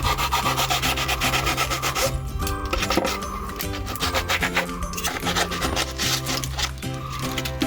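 A blade cuts through cured polyurethane foam filler, giving a continuous scratchy rubbing and sawing texture with uneven strokes, close and fairly loud, with no voices.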